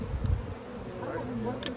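Honeybees drone steadily at an opened hive during an inspection, a low continuous buzzing swarm close by, with a couple of brief faint knocks over the hum.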